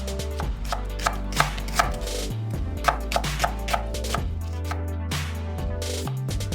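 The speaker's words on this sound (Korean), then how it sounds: "양파 반 개는 굵게 슬라이스" Half an onion sliced thickly with a knife on a cutting board, for Korean stir-fried fish cake: a steady run of sharp chopping knocks, close and clear, over a constant low background hum.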